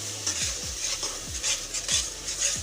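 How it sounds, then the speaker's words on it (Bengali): Onion, garlic and nut paste sautéing for chicken malai curry, with a steady close sizzle and repeated scraping stirs of a spoon against the pan at an uneven rhythm. "তো এখন সুন্দর মতো দেখে কষিয়ে নিচ্ছি। বন্ধুরা খুব ভালো করে কষাতে হবে।"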